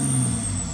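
A diesel BMW X5 engine idles steadily nearby as a continuous low rumble with a faint high whine, with no talk.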